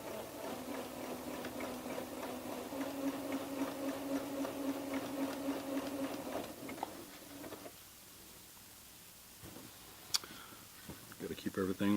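A home sewing machine runs a blind hem stitch on long fabric panels, giving a steady close mechanical hum and rapid ticking for about seven seconds before stopping, with someone talking over it.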